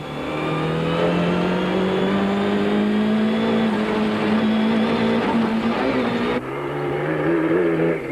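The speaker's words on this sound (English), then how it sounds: "Race cam action is from the Coetzee Leek Toyota at high speed through the streets of Vepner." A Toyota rally car at high speed through town streets in a 1992 Caledon 500 rally, heard from inside: a loud, steady engine note climbs in pitch, then dips briefly at a gear change before pulling again.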